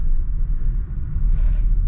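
A van drives along a road after a storm, giving a loud, steady low rumble of engine and tyres with a brief rise of higher road noise, and no talk over it.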